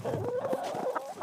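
Chickens cluck in short, uneven bursts at a shared farm in a Vermont intentional living community, close by and fairly clear, with no talk.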